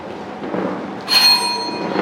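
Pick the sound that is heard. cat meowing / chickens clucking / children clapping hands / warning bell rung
warning bell rung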